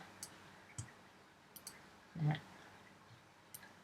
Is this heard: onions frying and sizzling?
no